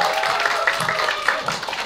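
An audience clapping at a book launch, a dense, steady patter of applause that fills the whole short stretch without pause.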